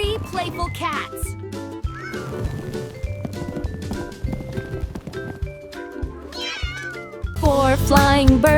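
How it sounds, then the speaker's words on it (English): A cartoon cat meows several times over a bouncy children's counting song with singing, loud and close, with the music swelling louder near the end. "3 playful cats."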